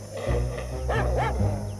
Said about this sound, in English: The sanctuary also cares for a pack of rescued dogs.